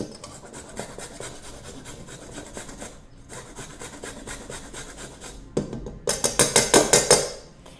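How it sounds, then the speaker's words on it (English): Fresh peeled turmeric root is rubbed across a grater in steady scraping strokes, faint at first, then a loud, close burst of quick rasping passes near the end. "I peeled the turmeric. So we can just grate it in."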